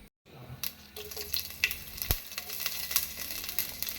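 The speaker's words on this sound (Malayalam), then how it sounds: "കടുക് പൊട്ടട്ടെ കേട്ടോ" Mustard seeds crackling and popping in hot oil while making semiya upma, a sizzling bed dotted with sharp irregular pops, close and fairly quiet.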